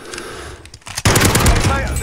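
Gunfire in a shooting video game, a sudden loud stretch of rapid automatic fire that breaks in about halfway through and carries on to the end, with a voice talking over the earlier part.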